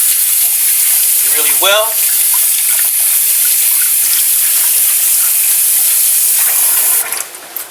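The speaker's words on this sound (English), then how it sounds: "Wash my hands all the way up to the wrists." Warm tap water runs hard and steady from a faucet into a sink while hands are washed with dishwashing liquid, a loud continuous rush with a brief voice speaking over it early on.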